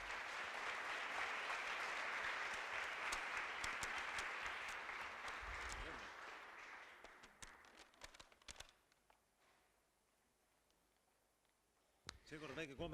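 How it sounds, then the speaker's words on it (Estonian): Applause for an award winner at a student science festival ceremony, loud and dense at first, then thinning into scattered claps and fading into near quiet before a voice resumes. "Teeme talle suure aplausi."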